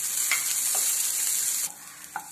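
Crushed ginger and green chili sautéing with onion for veg hara bhara kabab, a steady close bright sizzle with a few soft stirring clicks, easing slightly near the end.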